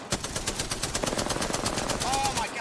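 Fast automatic gunfire in the video game Apex Legends, a steady rapid rattle of shots running throughout at moderate loudness, with a brief whine near the end.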